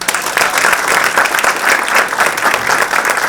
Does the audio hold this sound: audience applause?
yes